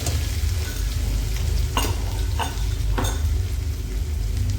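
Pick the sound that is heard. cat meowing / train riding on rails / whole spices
whole spices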